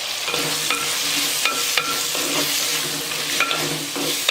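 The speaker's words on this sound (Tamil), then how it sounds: "வெங்காயம் தக்காளி நல்லா வதங்கிடுச்சு" Onion and tomato sautéing in a pan for sambar give a continuous close sizzle, broken by regular clinks and scrapes of a stirring spoon.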